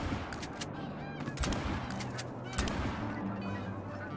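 Gunshots fired at a flock of geese while hunting in Call of the Wild, several sharp cracks spaced a second or so apart over honking, cackling geese at moderate distance.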